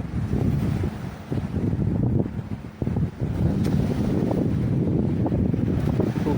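Strong, steady wind buffeting the microphone at an open beach at Jomtien, with a low roar of surf underneath and no voices.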